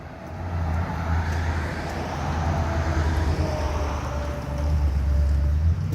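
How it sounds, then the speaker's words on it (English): Truck rushing past on a suburban road in Henry County, Georgia, a broad, loud roar of engine and tyres with wind buffeting that swells and stays close for several seconds, with no voices. "That truck has a lot of aerodynamic force to it."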